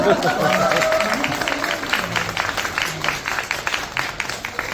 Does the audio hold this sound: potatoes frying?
no